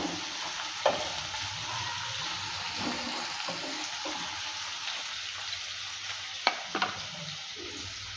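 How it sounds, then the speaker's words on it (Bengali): Onion and garlic fry in a pan with a steady, moderate sizzle as a spatula stirs them, giving scattered scraping knocks and a couple of sharper clicks against the pan. "পেঁয়াজের যতক্ষণ কালারটা চেঞ্জ না হয় ততক্ষণ অবধি নেড়ে চেড়ে নিয়ে ভেজে নেব"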